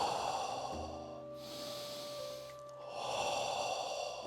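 A long, deep exhaled breath during a squat in a calming grounding exercise, steady and close, with a brief soft inhale in the middle and a soft tonal hum running beneath.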